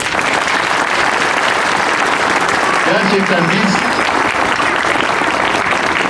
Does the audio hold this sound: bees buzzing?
no